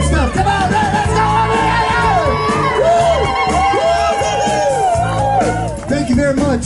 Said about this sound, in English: Yell and scream and stuff.